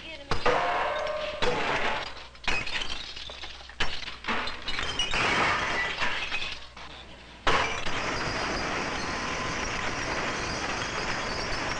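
Broken glass bottles clink, rattle and shatter in bursts at a glass factory, followed by a steady rushing industrial din near the end; voices are faintly mixed in.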